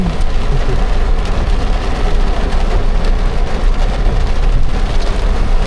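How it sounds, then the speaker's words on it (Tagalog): Heavy rain pours steadily throughout in Canlaon City, a dense continuous hiss with no voices. "Lakas ng ulan."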